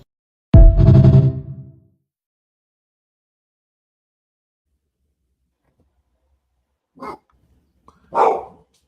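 A dog gives one loud, close bark, then after a long silence two fainter, shorter barks follow.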